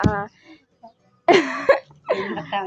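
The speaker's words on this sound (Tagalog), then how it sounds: "Inuubo ako." A few harsh coughs in short bursts, close by, separated by brief pauses, with the last pair coming in quick succession.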